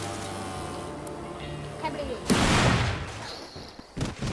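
Explosions and gunfire in the open-world action game Just Cause 3, with a loud blast erupting midway and rumbling on for about a second, followed by a few sharper bangs near the end over steady background game sound.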